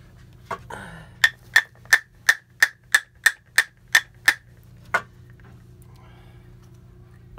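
A hammer strikes a metal punch to drive out a seized rear wiper motor part from a Chevy Trailblazer, GMC Envoy or Buick Rainier: about ten sharp evenly spaced metallic blows, close and loud, then one more hit.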